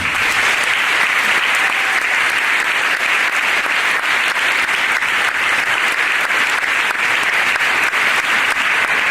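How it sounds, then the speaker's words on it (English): Sustained, dense applause from a large crowd at a high school Veterans Day assembly, steady and loud throughout with no break. "You all deserve a round of applause."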